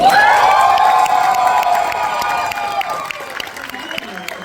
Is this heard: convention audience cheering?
yes